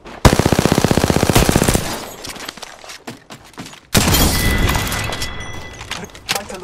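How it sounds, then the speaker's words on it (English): Rapid automatic gunfire in an Xbox multiplayer shooter match, a dense burst of fast shots followed by a pause with scattered single shots and a second heavy sustained volley, close and loud. "Hostile spotted. Opening fire."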